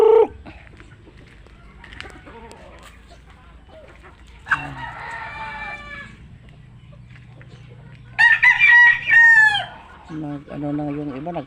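Chickens cluck intermittently in a farmyard, then a rooster lets out a loud, clear crow, with quieter clucks continuing around it and no one speaking.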